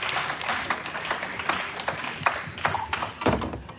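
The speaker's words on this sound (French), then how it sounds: "on acclame très fort pour le Seigneur" A church congregation at a year-end gala night applauds loudly and steadily, dense clapping filling the hall with scattered louder claps and thumps throughout.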